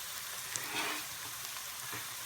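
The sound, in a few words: diced ginger dumped into hot oil, sizzling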